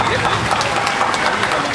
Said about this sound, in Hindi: एक और तालियां